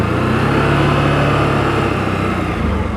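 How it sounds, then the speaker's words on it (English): A CFMoto CForce 1000 Overland ATV engine, a 2025 model, revs steadily in its work mode with a loud, close, continuous drone that climbs slightly in pitch as the throttle opens. "Look how easy this throttle control is. You can just hear it climbing a little bit."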